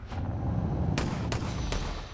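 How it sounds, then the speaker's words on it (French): Gunshots ring out at a military base, three sharp reports spaced under a second apart over a dense, rumbling background. "Dans une base militaire, il n'est pas rare d'entendre des coups de feu."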